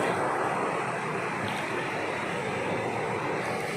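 Sea waves at the shore, a steady broad wash of surf mixed with wind buffeting, continuous and fairly loud with no distinct breaks.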